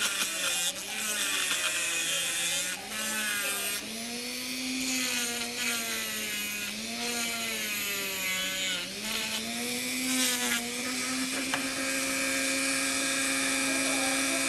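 A high-pitched rotary dental handpiece whines continuously while trimming an autocure acrylic resin custom tray, its pitch wavering slightly as load changes, close and loud throughout.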